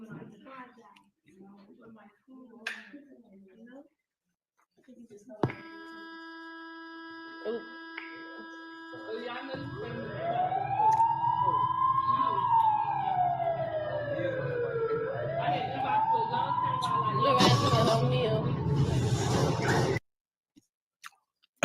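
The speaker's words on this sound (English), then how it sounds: "You heard that siren, right? You heard the siren go off." A wailing emergency siren rises and falls in long sweeping cycles, loud and close, arriving after quieter background sounds and cutting off abruptly near the end.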